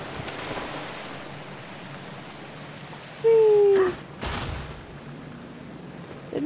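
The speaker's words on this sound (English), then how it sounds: "Excessively fast moving water." Fast-rushing water in the Darksiders video game: a constant broad wash of flowing water, with a brief whistling game effect and two sharper splashing bursts partway through.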